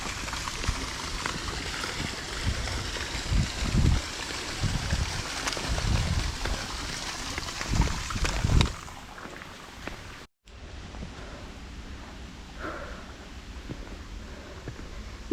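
A waterfall in the middle of a city in Brazil, a continuous broadband rush of falling water that is loud and close at first, then softer and more distant after a cut partway through.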